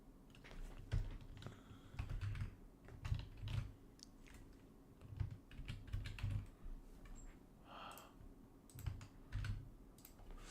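Keys clatter on a computer keyboard in bursts of quick taps with short pauses, typing commands into a terminal, close and moderately loud with no one speaking.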